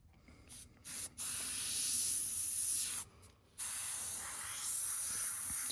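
An airbrush sprays paint in a steady, soft hiss that stops and restarts a few times in short bursts, close and alone.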